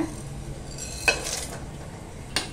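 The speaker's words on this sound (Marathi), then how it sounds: "आता आपण यात सगळे खडे मसाले टाकून घेऊया।" Whole spices drop into hot oil in a pressure cooker, giving a quiet steady sizzle with a couple of sharp metallic clinks from the spoon against the pot.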